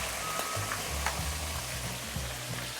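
Mackerel (ikan kembung) frying in hot oil over medium-high heat, giving a steady close crackling sizzle with a few sharper pops, continuous throughout without talk.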